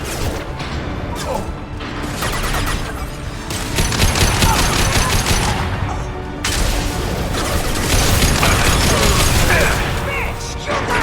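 Sustained gunfire and clattering combat in the Mass Effect 2 video game: dense rapid bursts of weapon fire rattle continuously at close range with crashes mixed in, and people shout over the shooting.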